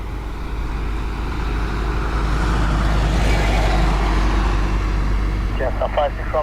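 A small Ryanair airside baggage buggy drives past at Dublin Airport, its steady motor drone blending with broad airport rumble and holding loud and constant throughout, with a voice briefly heard near the end.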